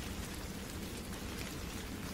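Heavy rainstorm effect, a dense continuous hiss of falling rain, loud and unbroken, with no voices.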